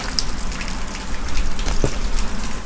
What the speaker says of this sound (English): Unfortunately, it's continuing to rain.